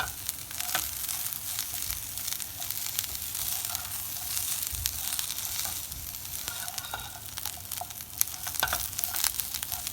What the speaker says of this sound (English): So let this cauliflower cook on high heat.